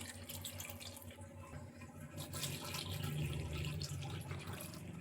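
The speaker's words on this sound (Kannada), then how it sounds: "ಇವಾಗ 1-2 ಗ್ಲಾಸಷ್ಟು ನೀರು ಹಾಕ್ಕೊಳ್ಳೋಣ" Water poured into a pot for massoppu saaru, a greens and lentil curry: a continuous close gushing, running stream that swells slightly midway and keeps flowing without pause, no talk.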